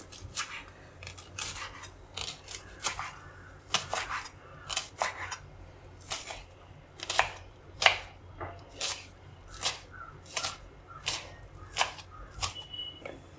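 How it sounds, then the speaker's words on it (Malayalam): Spring onion being finely cut with a knife on a board for a potato stir fry: quick, crisp cutting strokes come in steady clusters, close and clear against a quiet room with no talking. "ഇനി ഇത് നന്നായിട്ട് ചെറുതായിട്ട് കട്ട് ചെയ്തെടുക്കാം"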